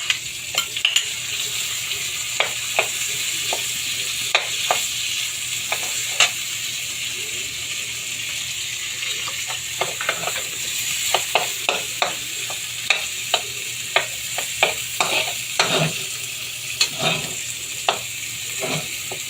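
Onions frying in a pan give a steady, soft sizzle, broken by irregular clicks and scrapes of stirring throughout.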